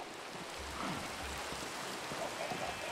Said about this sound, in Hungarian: de nem, csak esik az eső.